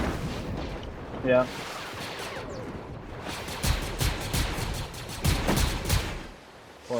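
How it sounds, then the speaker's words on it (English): Bursts of gunfire in the Fortnite video game crack in uneven clusters, some rapid volleys and a few louder single blasts, mixed with game noise and a short spoken remark. "Someone shooting at Darth Vader?"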